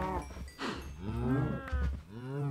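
Cows mooing in the Minecraft video game, several drawn-out lowing calls overlapping one another, loud and close throughout with no talk.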